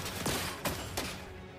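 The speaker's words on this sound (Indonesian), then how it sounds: "Beberapa tembakan pun juga masih dilakukan" A few sharp bursts of gunfire ring out in a video game match between a blue team and a red team, three distinct shots spaced roughly a third of a second apart over a steady background.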